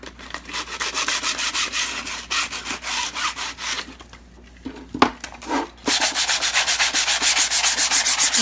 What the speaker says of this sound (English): You're gouging it with the sandpaper?